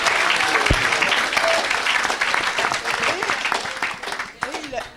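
Sustained audience applause at a church gathering, steady dense clapping at fairly loud level across the whole stretch, with a voice briefly audible over it.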